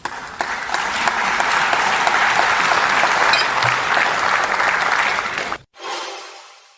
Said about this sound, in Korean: 이쯤에서 박수가 터져나왔던 걸로 기억하는데